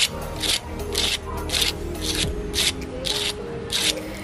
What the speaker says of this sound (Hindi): अभी मैं ना आपको इसकी आवाज़ भी सुनाऊंगी आप देखिएगा कितना क्रिस्पी बना है